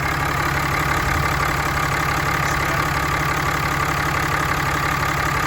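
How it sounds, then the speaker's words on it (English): A small motor idles steadily up close, a constant dense drone with a faint knocking pulse and no pauses, loud and alone. "There's the motor."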